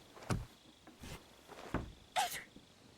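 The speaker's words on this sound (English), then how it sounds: "Sneezing." A character sneezes in the video game Kingdom Come Deliverance 2. Several short bursts sound at close range, with the last and loudest near the end, over quiet game ambience.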